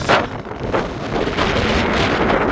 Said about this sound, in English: It's a little windy, so hopefully you guys can hear me.